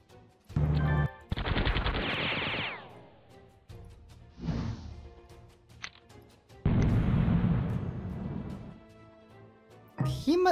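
Bombing and gunfire in the strategy game Glory of Generals 3: several loud bursts of rapid shots and explosions, one with a falling whoosh, separated by quieter gaps, then a last sharp blast at the end.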